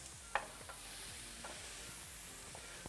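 Onions, peas and other vegetables sizzle in a pan for chicken pot pie, a steady close frying hiss with a few soft stirring knocks from the spoon.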